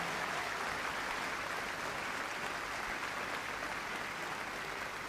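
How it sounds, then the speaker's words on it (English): Arena audience applauding the Scruffts crossbreed dog show finalists at Crufts, a dense, even wash of distant clapping sustained throughout. "please can we get one final round of applause for all of our Scruffs finalists"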